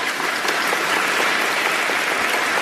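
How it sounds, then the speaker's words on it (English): Applause dropped into a pop-culture talk show, a dense, even burst of clapping that holds steady at close range without any voices over it. "we got to throw some applause in for that."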